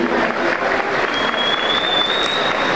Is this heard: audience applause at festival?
yes